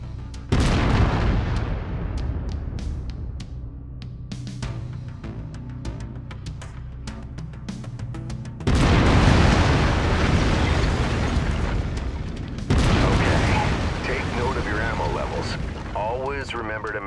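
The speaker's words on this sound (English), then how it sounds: "I've mapped the autocannon to Weapon Group 1." Autocannon fire in the MechWarrior 5: Mercenaries video game, heavy booming blasts and rumbling explosions repeating over a dense, continuous battle din.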